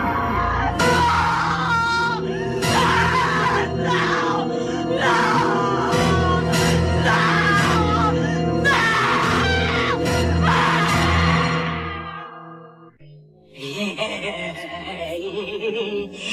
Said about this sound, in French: que dites-vous de ces hurlements